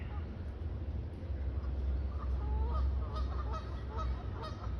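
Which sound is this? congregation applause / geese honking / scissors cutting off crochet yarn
geese honking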